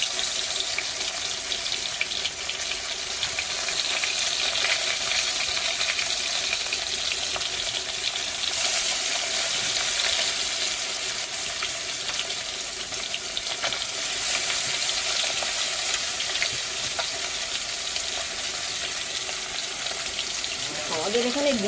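Fish coated in turmeric and chili powder fries in oil in a wok, giving a steady bubbling sizzle that continues without pause at moderate loudness.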